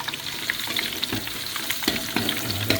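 Glass noodles stir-fried in a pan sizzle steadily with broadband crackle, while a spatula scrapes and stirs in short irregular bursts, close and fairly loud, with no voices.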